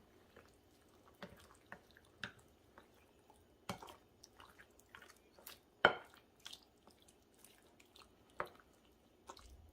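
Spinach being mixed into a pasta dish, faint wet squishes and scattered soft utensil taps at an irregular pace, close and quiet with no talking.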